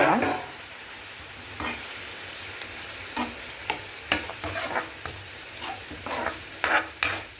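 Chicken liver masala with a little water is stirred in a pan, giving a soft sizzle with repeated scraping strokes that quicken toward the end, close by and free of talk.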